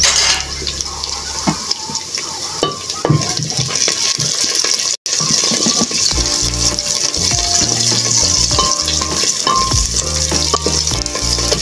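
Food sizzles loudly in a pan with curry leaves while being stirred, a dense crackling fry punctuated by scraping and clattering strokes of the spoon, close and continuous with a brief break midway.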